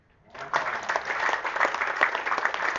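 Audience applause starts suddenly after a short quiet moment and continues as a steady, moderately loud patter of many hands clapping together, filling the rest of the stretch.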